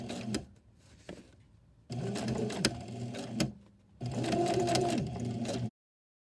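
A sewing machine stitches quilt binding in the ditch, running in three bursts: a short one, then two longer steady runs separated by brief pauses.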